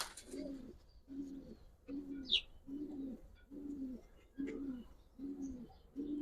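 Giribaz racing pigeons coo inside a loft in a steady series of about eight soft, rolling calls at an even rhythm, quiet and close, with a brief chirp partway through.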